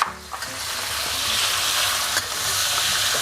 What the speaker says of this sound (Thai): ผัดกับน้ำมันที่เราเจียวกระเทียมเมื่อกี้นะครับ